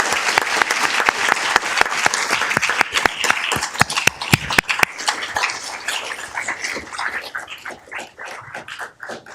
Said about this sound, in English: let's give them all a round of applause right now.